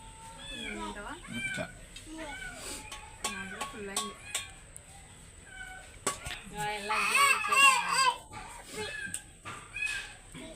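A cat meows repeatedly inside a family home, its drawn-out rising and falling cries coming close and fairly loud, with a louder burst of meowing near the end and people talking around it.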